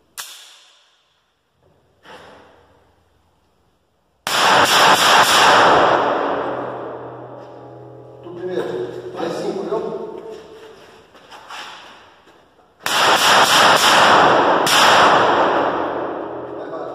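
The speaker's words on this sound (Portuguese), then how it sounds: "E vou fazer os disparos agora. São 15 munições recarregadas e 15 originais." A customized IMBEL .380 pistol is fired with a mix of reloaded and factory ammunition, producing a few sharp, loud reports with long decaying echoes, spaced several seconds apart, with faint movement and breathing between shots.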